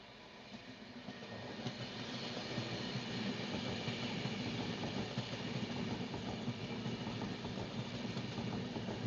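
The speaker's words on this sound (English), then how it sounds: "here comes a Pendolino for you" A Pendolino train rushes past on the railway, a broad roaring rumble that builds steadily and holds loud for the full length with faint track clatter underneath.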